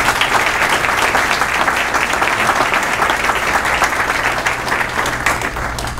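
An audience applauds steadily at a mosque inauguration event, a dense, loud wash of many hands clapping that holds for the full stretch without letting up.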